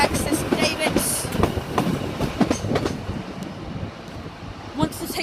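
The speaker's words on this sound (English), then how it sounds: "150/20 unit to Exeter St David, coming in on platform 7." Class 150 diesel unit to Exeter St David's pulling into platform 7 at Plymouth station, a loud, close rumble with wheel clatter and faint squeal that eases off toward the end.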